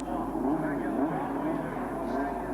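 A 1969 Formula 1 car drives up ramps onto a low loader at the British Grand Prix. Its engine gives a low, rough drone with slight rises in revs, heard together with a commentator's voice.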